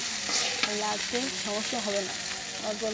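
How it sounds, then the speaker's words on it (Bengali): Noodles dropped bit by bit into a frying pan for a picnic meal and stirred, giving a steady sizzle broken by short scraping strokes of a spoon, close by, with no talking. "লাড়াচাড়া করবেন এবং নুডলসগুলো দেবেন"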